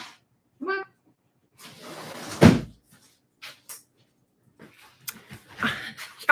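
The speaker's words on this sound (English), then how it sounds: "my dog is scratching on my door" A dog scratches at a freshly painted interior door, making intermittent scrapes and knocks with one sharper thud in the middle and a brief whine-like sound early on, all close and separated by quiet gaps.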